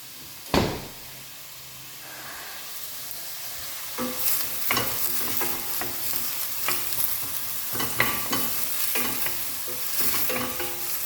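Onions frying in a pan, a steady sizzle broken by a sharp knock near the start and repeated scraping stirs and clatters of the spatula.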